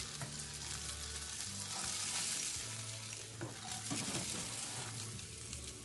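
Grilled cheese with BBQ beef riblets sizzling in butter on a hot plate, a steady close frying hiss with light crackle that carries through the whole stretch, no voices.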